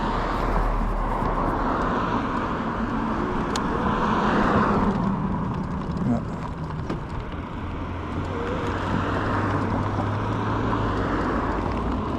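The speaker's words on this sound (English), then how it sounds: "Traffic on this road is bad." Road traffic passes along a neighborhood road heard from a ride, a continuous rolling rumble with vehicles swelling and fading by, moderately loud and steady with no talk.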